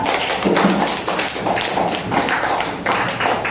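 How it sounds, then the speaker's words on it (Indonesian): Classmates in a school classroom clap for a student after a presentation, a steady, close patter of many hands lasting several seconds without voices. "Tepuk tangan buat Reja"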